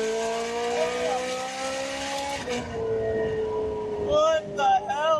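A loud BMW M3 engine revs hard at full throttle out on the street, its pitch rising and falling in sweeping pulls with a raspy, roaring exhaust, close by and continuous, with brief voices in the background.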